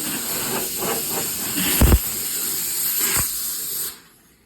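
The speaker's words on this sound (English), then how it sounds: "What we're gonna do is blow all the excess dust off" Compressed air blows sanding dust off a sanded truck tailgate ahead of bedliner spraying: a steady close hiss of about four seconds with a couple of brief sharper bursts in the middle, ending abruptly.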